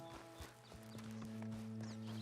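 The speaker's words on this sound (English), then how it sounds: "Come on, Mr. Horse" Horse hooves clop in a quick, uneven rhythm over a droning tonal background hum, close and moderately loud, in the video game Red Dead Redemption 2.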